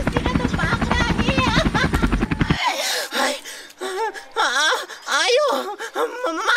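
A helicopter's rhythmic rotor chop sounds loud and close for about two and a half seconds, then cuts off abruptly. Voices follow, wailing and talking.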